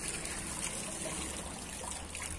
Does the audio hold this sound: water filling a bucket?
yes